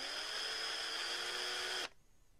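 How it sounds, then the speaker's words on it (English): Small power drill boring a roughly 3/16-inch hole into a plastic candy dispenser gives a steady high-pitched whine close by. It stops abruptly after about two seconds. "we need to drill a hole about 1/4 inch down from the top"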